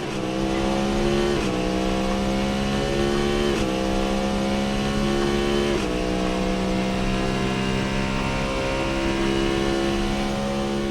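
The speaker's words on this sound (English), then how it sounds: "Take second gear here, don't want to upset the car, shifting into second again." A loud Cadillac V-Series.R race car engine in the video game Assetto Corsa revs steadily, pitch climbing and dropping sharply at several gear shifts, continuous and close with no talking.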